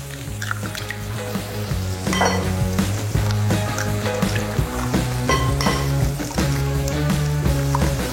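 Peppers fry in a pan for a spaghettini frittata, a continuous close sizzle with occasional utensil clinks beneath steady background music.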